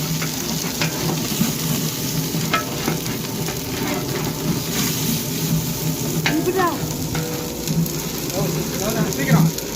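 Food for biryani fries in hot oil with a dense, continuous sizzle and crackle, like heavy rain, and occasional stirring scrapes. Faint voices can be heard briefly in the background.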